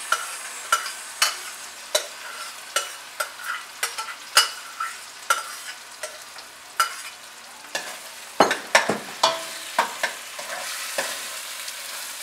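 Pav bhaji vegetables stirred into cooked tomatoes in a pan, a soft sizzle beneath a steady series of sharp spoon taps and scrapes, with a busier clatter of stirring toward the end.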